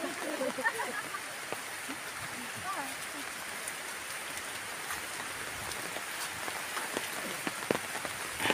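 Steady rain hisses down outdoors in a soft, even patter that runs throughout, with a few louder drips and a voice speaking faintly underneath.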